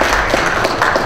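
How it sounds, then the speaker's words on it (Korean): A crowd applauds at the inauguration ceremony of a Wangsimni merchants' association president, a brief burst of steady, fairly close clapping from many hands. "수고한 박수 부탁드리겠습니다"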